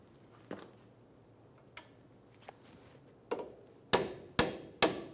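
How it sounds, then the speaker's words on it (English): A few faint metallic taps, then three sharp, loud strikes of a hammer on a punch, knocking out a ball joint bolt on a 2000-2007 Ford Focus front suspension. "we're going to use a hammer and a punch and punch it out"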